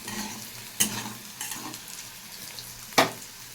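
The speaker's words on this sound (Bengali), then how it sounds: "ডালের জন্য আমি উচ্ছেগুলোকে আগে ভেজে নিচ্ছি।" Bitter gourd pieces fry in a pan with turmeric and salt, a steady close sizzle broken by two sharp scraping stirs of a spatula, with no talking.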